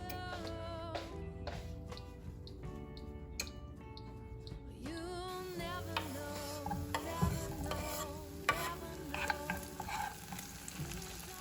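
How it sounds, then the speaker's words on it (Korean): Tomatoes fry in garlic oil with a continuous sizzle and occasional stirring clatter, heard close and steady under background music, with no voices. "기다리는 동안 토마토를 마늘기름에 볶고 계란 후라이도 준비합니다"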